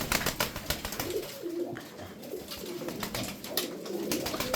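Tumbler pigeons cooing nearby, soft repeated low coos over a faint background of rustling and shuffling, with no voices.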